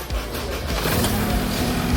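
Push-start ignition on a Honda Civic EJ1 fitted with a plug-and-play JDi push-start kit: the engine cranks and catches, then settles into a steady close idle that fills the clip.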